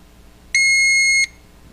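A single sustained electronic beep from a safe's fingerprint scanner, bright and steady for under a second, close by against a quiet background.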